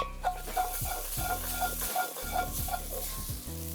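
Whole spices with a pinch of allspice stirred in a hot pan, sizzling and scraping steadily with a rhythmic stirring pattern, close and moderately loud, no talk.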